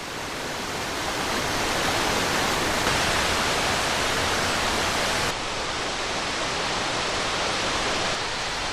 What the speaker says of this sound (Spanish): no se oye más que el murmullo de las cataratas